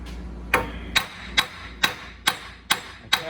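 A hammer taps on the wheel bearing shaft of a 2011 Ford Fiesta, seven sharp metallic knocks at an even pace about every half second, close up over a low background hum.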